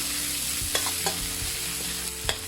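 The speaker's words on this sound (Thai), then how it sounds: "เราจะผัดกะปิไปกับพริกกระเทียมเลยนะคะ ให้เขามีกลิ่นหอม" Shrimp paste stir-fried with chili and garlic in a hot pan, sizzling steadily with a few sharp scrapes of the spatula against the pan, close and alone with no talk.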